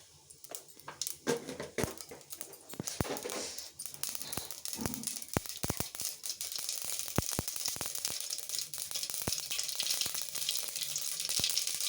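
Mustard seeds pop and splutter in a little hot oil before dried red chillies are added, sharp crackles scattered over a steady frying hiss, close and fairly loud, no talking.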